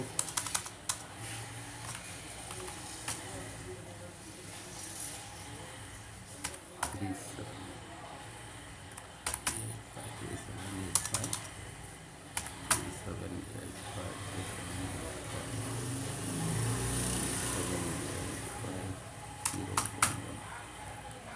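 Keys clatter on a computer keyboard as a voter ID number is typed into an online form, bursts of quick taps coming in irregular runs close by, with a person talking at times in between.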